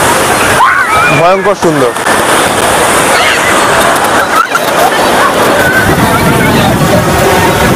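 Sea waves roll onto Golden Beach in Puri, a steady loud wash of surf and splashing close by, with a person talking over the noise partway through.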